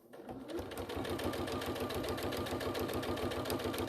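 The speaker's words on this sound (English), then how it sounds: "I'm just sewing along the edge of it." A sewing machine stitches along the edge of crazy patchwork fabric, its needle chattering in a fast, steady rhythm that runs loud and close throughout after a brief start.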